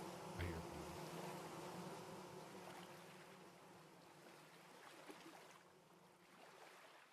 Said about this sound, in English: I'm surprised we haven't found more bees than we have.